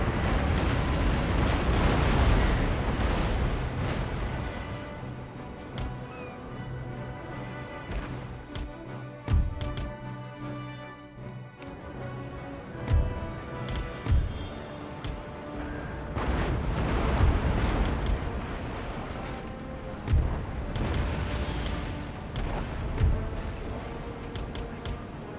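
Warship cannons in an Empire: Total War naval battle fire in dense, rumbling volleys, with booms and bursts rolling continuously under a steady battle din.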